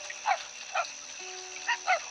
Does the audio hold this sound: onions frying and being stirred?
no